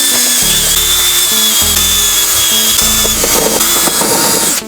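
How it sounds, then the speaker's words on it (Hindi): An electric drill boring holes through PVC pipe while building a two-socket extension board, its motor whining loudly and steadily with several start-stop pulses as the bit bites through the plastic, with no talking. "तो हमारे पास ड्रिल मशीन है, सबसे पहले हम यहाँ पर होल कर देंगे कुछ इस प्रकार से।"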